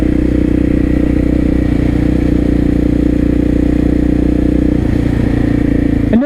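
A KTM 660 SMC single-cylinder motorcycle with an illegal aftermarket exhaust runs loud and close, a deep steady idle with a brief rev near the end before cutting off.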